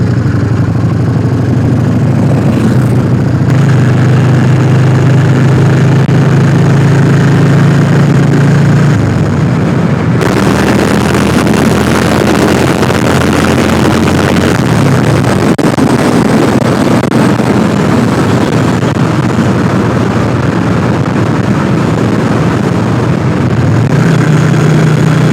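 A Yamaha XV 400 Virago motorcycle's engine runs steadily for the whole stretch, a loud low rumble whose pitch shifts slightly as it idles and revs, with no voices over it.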